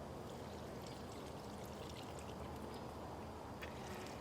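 Liquid garden fertilizer, fish emulsion and seaweed, poured onto celeriac and celery plants gives a soft, steady trickling wash that runs continuously at low volume with no voices.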